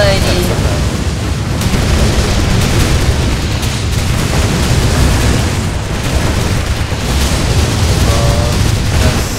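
A boss unleashing firing explosions in the Dragon Nest video game: dense, continuous booming blasts and bursts fill the mix loudly from start to end, with game sound effects layered throughout.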